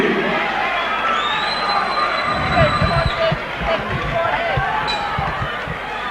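A home crowd roars and cheers steadily for their fighter during a 1997 Commonwealth boxing bout, a dense continuous wall of noise with a commentator talking over it throughout.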